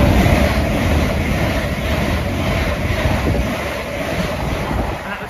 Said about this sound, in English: passing through now is an LNER service from Aberdeen to London King's Cross